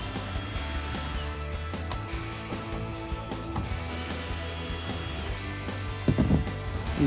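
A power drill with a bit spins out T15 screws holding a tail light on a 2019-2023 Chevrolet Silverado 1500, a steady motor whine with short stops and restarts, ending in a few close clicks and knocks.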